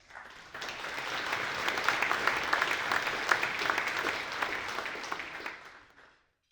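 Audience applause welcoming a guest speaker onto the stage at an investor summit, a steady sustained crowd clapping that swells in quickly, holds for about five seconds and fades out.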